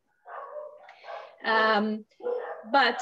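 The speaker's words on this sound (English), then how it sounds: "sorry about the dogs." Several dogs bark in short harmonic bursts, loud and close, with one clipped word spoken between them.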